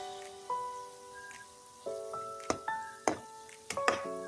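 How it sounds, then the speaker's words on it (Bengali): Gulab jamun made from milk powder and flour fry in hot oil, a soft bubbling with scattered sharp pops and crackles, near and fairly quiet, no talk. "এভাবে ঘুরিয়ে ঘুরিয়ে কিন্তু নেড়ে চেড়ে মিষ্টিগুলি সুন্দর করে ভেজে নিতে হবে।"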